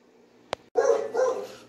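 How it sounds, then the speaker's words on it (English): A pet dog barks indoors, a sharp click first, then two loud, close barks in quick succession, with no one talking. "My dog's barking, so I gotta go see what he needs."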